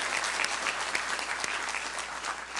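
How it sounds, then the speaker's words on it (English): A congregation applauds two graduates, a crowd of hands clapping steadily at moderate, somewhat distant volume with no voices over it. "Let's give them a round of applause and congratulations."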